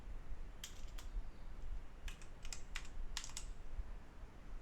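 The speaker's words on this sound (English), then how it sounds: "So for example, if I type this is good stuff" A computer keyboard is typed on in short bursts of quick clicky keystrokes, fairly faint over a low background hum with pauses between the runs.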